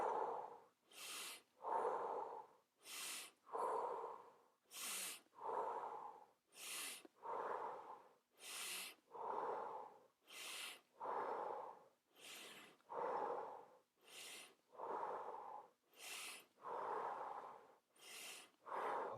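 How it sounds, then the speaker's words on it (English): A guided slow deep breathing exercise: about fourteen long, regular breath cycles, each a broad airy inhale or exhale with a sharp hiss at the end, close and steady, with no talking. "Breathe longer out and in"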